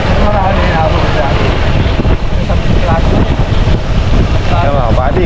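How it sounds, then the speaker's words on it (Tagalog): Strong super typhoon wind roars and buffets the microphone in a loud, unbroken rush, with a voice talking faintly underneath. "grabe yung hangin"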